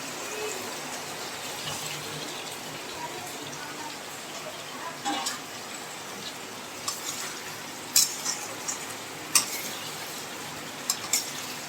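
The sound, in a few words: fried potatoes and pointed gourd added to the pan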